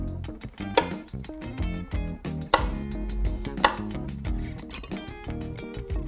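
A knife cuts salted-water-blanched green beans into bite-size pieces on a board, giving a run of quick, close chops over steady background music.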